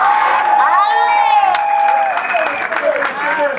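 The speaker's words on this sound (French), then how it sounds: "sous vos acclamations, s'il vous plaît." A crowd cheers and whoops at a customary and civil wedding in Libreville, Gabon, with voices and shouts swelling over clapping; loud, close and continuous.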